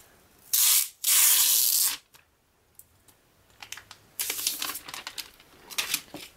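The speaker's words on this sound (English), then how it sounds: "let's go ahead and take off the packaging." Protective plastic packaging is peeled off a space gray iPad Air 2 in loud, close crinkling and tearing bursts, separated by quieter rustles and light handling noises.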